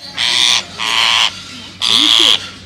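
A pet parrot being handled and stroked gives three loud, harsh squawks close by, each about half a second long, separated by short pauses.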